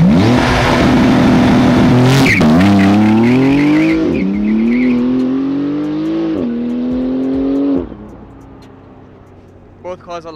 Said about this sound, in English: Both cars are launching pretty good.